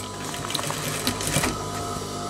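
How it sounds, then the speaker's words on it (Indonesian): A sewing machine stitches a seam on baggy trousers, a continuous fast mechanical whirring hum with a few light clicks, close and steady, with no voices. "Di sini kita jahit sama sesuai lebar kampoh."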